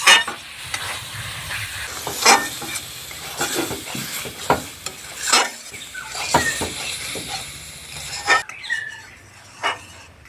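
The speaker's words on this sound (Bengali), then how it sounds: "টমেটোগুলোকে মশলার সঙ্গে ভালোভাবে ভেজে নিলাম" Tomatoes fry with spices in a pan for a sour kochu shaak dish, a steady sizzle punctuated by repeated scraping stirs of a spatula at an irregular rhythm, close and clear.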